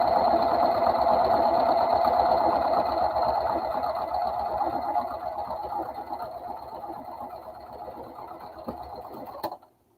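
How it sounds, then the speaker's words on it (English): A sewing machine stitches straight across the bottom of a seam in a steady, fast, close mechanical whir that gradually softens and then stops abruptly at the end. "I'm literally going to stitch right across the bottom, getting that seam as small as possible"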